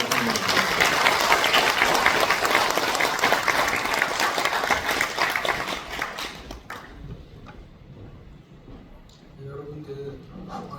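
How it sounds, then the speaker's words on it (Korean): Loud, dense applause from a lecture audience welcoming a Korean AI founder to the stage. It runs steadily for about six seconds, then thins and fades, and a voice begins speaking near the end. "뜨거운 박수로 환영합니다."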